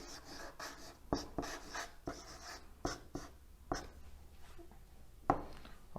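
Marker strokes on a board during an electronics lesson on linear power supplies, a series of short scratchy squeaks and taps in irregular bursts, close and moderately loud, with no talk.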